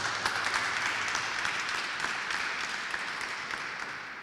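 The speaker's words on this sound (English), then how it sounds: "Didn't expect to get a round of applause for that." Sustained applause from a conference audience at an international launch event in London, a steady even wash of many hands clapping at moderate distance, with no speech over it.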